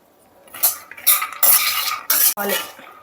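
Dry fruits being stirred and fried in a pan, with repeated clinks and scrapes of a utensil against metal in several close bursts and brief pauses between strokes.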